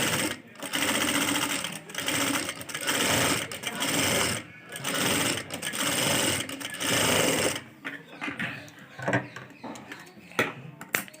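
A sewing machine stitches along a buckram edge in long bursts of fast mechanical whirring, pausing briefly between runs, then gives way to quieter clicks and handling. It is close and steady, with no talking.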